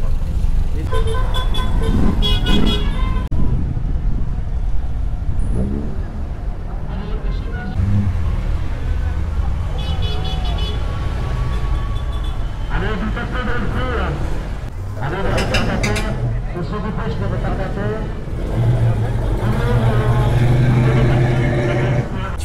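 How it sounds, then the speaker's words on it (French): Vintage cars, including a Renault and a Fiat 500, set off in a parade from a classic-car gathering at Andrésy, with engines revving, horns tooting repeatedly and traffic rumbling nearby while people talk throughout. "Allez, départ de la parade, petit tour en ville"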